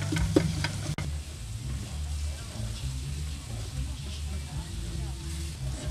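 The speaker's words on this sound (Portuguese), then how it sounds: "Deixar dourar o sal com alho." Salt and garlic frying with onion in a pan for vaca atolada, a steady sizzle under a low hum, with a few utensil clicks at the start.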